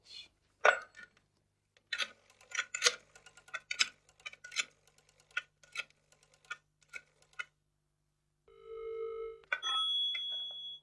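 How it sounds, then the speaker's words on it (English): A telephone rings in a detective drama scene, a short steady electronic ring tone heard after a run of sharp clicking sounds, fairly faint, with no talking. "Let's make some phone calls."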